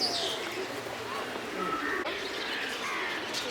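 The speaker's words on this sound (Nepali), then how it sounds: "मेरो परेवा" Pigeons and other caged birds at a zoo, with soft coos, chirps and squawks mingling in a busy aviary soundscape, fairly faint and continuous beneath background bustle.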